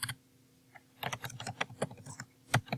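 Someone types on a computer keyboard, a quick run of irregular clicks and taps close by, starting softly and then growing busier, with no talking.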